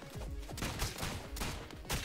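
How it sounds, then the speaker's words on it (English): Dense rumbling explosions in a modded video game, crackling blasts rolling continuously, loud and overlapping, with booming bursts recurring every half second or so. "Those explosions kind of last for a while."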